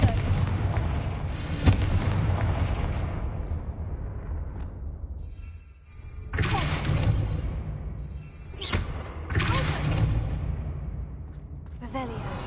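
Confringo fire-blast spells go off in a Harry Potter video game. Several heavy booming explosions follow one another, each leaving a rumbling decay, with one fading out before the next bursts.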